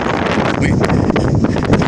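Strong wind gusting around a third-floor music practice room of a house in Chonburi, a dense, steady roar with buffeting across the whole clip, no clear speech.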